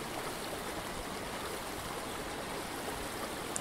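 The River Tummel in remote Scotland flows in a steady, dense rush of water, continuous and even throughout with no voices.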